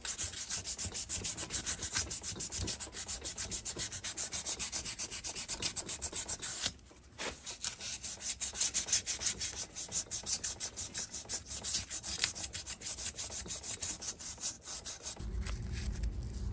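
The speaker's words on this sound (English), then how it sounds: "All right, it's sandpaper time. 1000 grit, cut you off a slice like this" Continuous hand sanding of engine intake and exhaust ports with a strip of 1000 grit sandpaper, a steady close rasping rub with a brief pause partway through, alone without talk.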